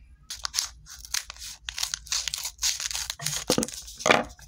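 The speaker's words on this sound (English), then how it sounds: "So I have the scissors. Now I'm going to open it." Scissors snipping and tearing open a crinkly plastic package, a series of close crunchy cuts and rustles with brief pauses between them, no talking.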